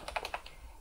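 A computer keyboard is typed on softly and nearby, a quick run of four or five light key clicks, then quiet.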